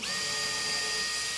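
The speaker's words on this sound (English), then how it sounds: "pre-drill to prevent splitting the wood." A power drill whines steadily at high speed for a second or so, pre-drilling a 2x4, a close, continuous mechanical whir boring through wood.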